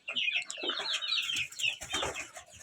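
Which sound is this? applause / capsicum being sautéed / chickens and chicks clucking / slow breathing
chickens and chicks clucking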